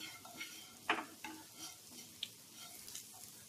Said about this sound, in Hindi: इसे हमें क्रिस्प होने तक फ्राई कर लेना है।